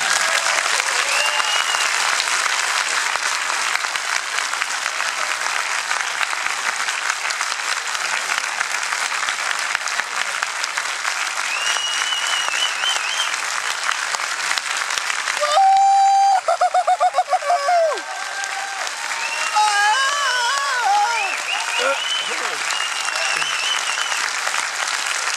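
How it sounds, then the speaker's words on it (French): A large audience at the Mad Movies film magazine's 40th anniversary night applauds loudly and steadily, with a brief whistle partway through before the clapping carries on. "applaudissez-le."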